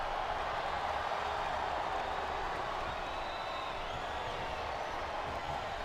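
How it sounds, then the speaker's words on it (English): Capacity arena crowd in the wrestling game WWE SmackDown vs Raw: a continuous wash of distant cheering and crowd roar holds steady throughout at moderate level, with no distinct claps or calls standing out. "This capacity crowd is making their opinions heard tonight."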